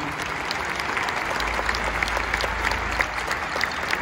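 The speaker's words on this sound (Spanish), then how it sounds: "Un aplauso para el capitano." A large stadium crowd at a live rock concert applauds and cheers, producing a dense, steady wash of clapping that holds at full strength throughout without pause.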